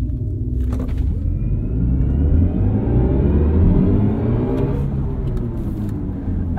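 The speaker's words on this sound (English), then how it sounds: "Let's do a little launch control in here." A 2022 BMW i4 M50 electric gran coupe launches hard under launch control with traction off. A deep road rumble and a rising electric whine build steadily, heard from inside the cabin with no voices.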